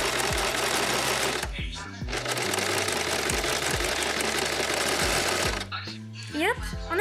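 A sewing machine runs in long continuous bursts while stitching a hem, a dense close whir with short stops between runs, and a voice talks over it.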